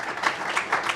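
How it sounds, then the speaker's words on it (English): Brief burst of audience applause for the patrons at the New York New Belfast Conference, a dense wash of clapping lasting about a second at moderate loudness. "So a round of applause for the patrons as well."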